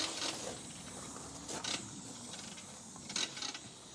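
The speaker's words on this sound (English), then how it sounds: "there's the compressor going." An air compressor runs inside a mobile detailing van, giving a quiet, steady mechanical drone with occasional clicks and rattles and no talking.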